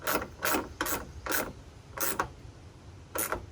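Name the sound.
wrench tightening Jeep JK hood latch studs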